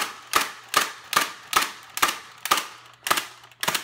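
A BOOMco Crank Force toy blaster fires rapidly, giving eight sharp, evenly spaced plastic snaps with short mechanical whirs between them, close and loud.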